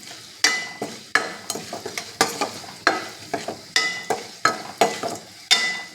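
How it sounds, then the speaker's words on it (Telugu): Vegetables, including raw banana for a mustard curry, are stirred and fried in a little oil in a pan, with a regular series of sharp scraping strokes over a steady sizzle, close and loud. "కొంచెం ఆయిల్ వేసుకుని ఇవన్నీ ఫ్రై చేసుకుంటున్నాను అన్నమాట"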